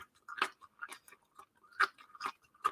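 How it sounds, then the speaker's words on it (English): Crisp crunching bites and chewing of beef, black bean and cashew stir-fry vegetables, close up, in an irregular rhythm of several loud crunches with quiet gaps between. "I don't know if you can hear too, like my veggies and my stir fry are crunchy"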